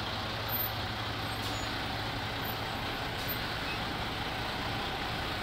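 Truck rolling up to a residential lake excavation site, with a steady low engine rumble and broadband road noise holding constant and fairly loud, without talk.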